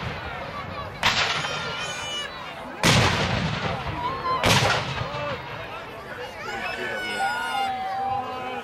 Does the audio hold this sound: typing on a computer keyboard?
no